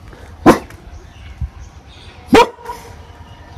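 A dog on a street gives two sharp, loud barks about two seconds apart, with a quiet outdoor background between them.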